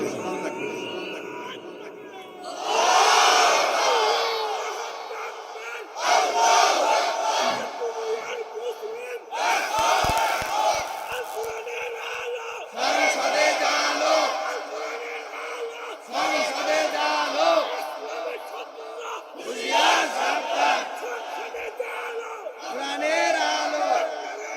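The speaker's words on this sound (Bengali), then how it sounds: "যদি খন খুশি তাহলে জোরে একটা তাকবীর দিতে হবে" A large crowd at an outdoor religious gathering roars takbir in repeated loud bursts, several seconds each, separated by brief pauses, with a voice leading between shouts.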